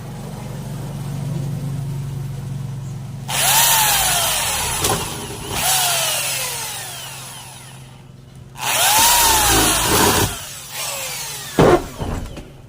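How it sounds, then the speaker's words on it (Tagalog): A power drill bores holes in a sliding window frame for Phillips screws, a whining motor revving in two long bursts with rising and falling pitch, plus a short final burst, over low background noise. "So bubutasan po muna natin."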